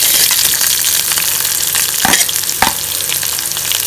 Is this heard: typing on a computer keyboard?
no